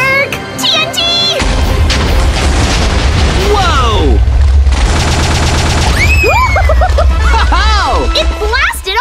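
TNT blowing up in Minecraft, with loud, booming blasts and crackling bursts filling the whole stretch. Game music and sound effects sweep over it, and excited voices shout throughout.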